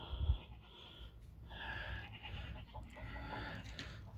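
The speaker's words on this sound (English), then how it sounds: "My two hens over there are 3 years old." Hens cluck and murmur softly nearby in a backyard as new chickens meet older three-year-old hens, with scattered low calls and a faint thump near the start, all fairly quiet.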